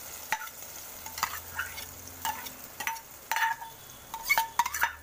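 Peanut and onion paste goes into poha in a pan, bringing irregular bursts of stirring and scraping over a low sizzle, with short clinks of a spoon against the pan and no voices.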